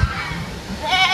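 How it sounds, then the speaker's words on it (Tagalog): A goat gives a short bleat close by, brief and fairly clear against a quiet background. "Ano daw sabi ng kambing mo, Mat?"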